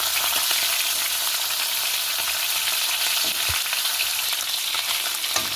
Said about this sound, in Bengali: মাছের মাথাগুলো আমি উল্টে পাল্টে সুন্দর করে ভেজে নিচ্ছি